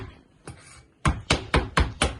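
A knife chops steadily on a cutting board, with five sharp, evenly spaced strikes after a couple of softer taps, close by.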